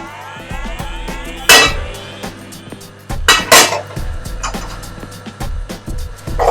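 Onions and garlic tipped into a pan for a courgette side dish, giving two bursts of clatter and sizzle over a steady kitchen hum, with occasional clinks of utensils against cookware.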